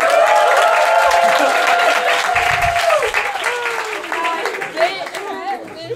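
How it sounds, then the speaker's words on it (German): A stand-up comedy audience at a live German show bursts into loud, sustained applause mixed with whoops and cheering voices, the clapping dense and close before easing slightly toward the end. "Mach Applaus."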